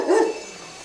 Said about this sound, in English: Bunch of angry dogs that'll eat me around here.